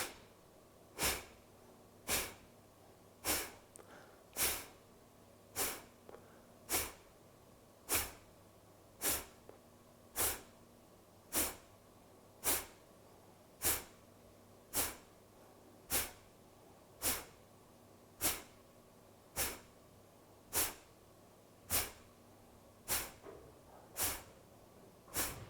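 Rapid rounds of forceful yoga clearing breaths: sharp, regular nasal exhales roughly once a second, close and even-paced, with no talking.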